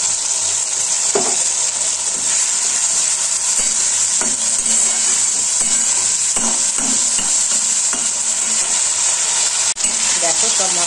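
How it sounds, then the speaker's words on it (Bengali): Ground spice paste sizzles steadily in a hot pan for khichuri, with intermittent stirring scrapes and clinks from a spoon throughout, close and loud. "এবার বাটা মশলাটা দিয়ে কষিয়ে নেব।"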